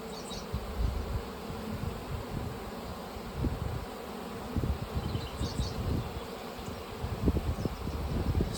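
A honeybee swarm hums and buzzes as it is moved from a five-frame swarm trap into a resource hive, a dense continuous drone with individual bees zipping past close to the mic and soft rustling beneath, no talking.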